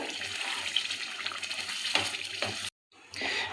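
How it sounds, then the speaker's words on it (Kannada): Water is poured into a pan of egg masala gravy, a close, steady splashing hiss that stops abruptly near the end, then resumes after a short silence. "ಇವಾಗ ನೀರು ಹಾಕೋತಾ ಇದ್ದೀನಿ"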